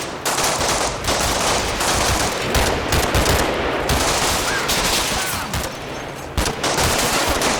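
Infantry gunfire in Combat Mission Battle for Normandy, a dense continuous fusillade of machine-gun bursts and rifle shots fired from a building, loud and unbroken apart from a brief lull near the end.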